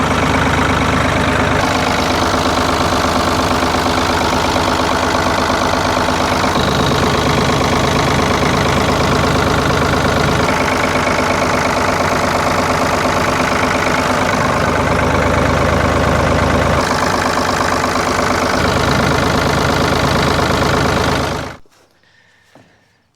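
A Ford 4000 tractor engine idles steadily with a low, even rumble, loud and close, running without pause until it cuts off near the end.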